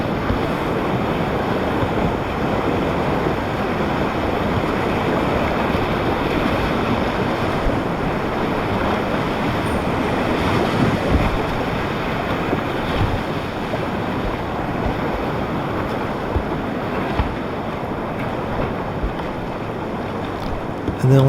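Loud, continuous rushing water on the Lower Haw River running at about 3,000 CFS, heard from a boat on the water with heavy wind buffeting the microphone throughout.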